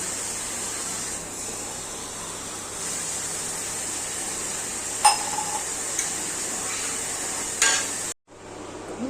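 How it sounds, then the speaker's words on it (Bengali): Gravy of a banana flower fritter curry boils in a pan with a steady bubbling hiss and a couple of faint clinks, then cuts to a brief silence near the end; no one speaks. "ঝোলটা ফুটে এসছে"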